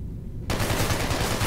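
Rapid gunfire erupts at a shooting range in the video game Hatred: a sudden, loud, continuous automatic burst that starts after a brief quiet moment and fills the rest of the moment.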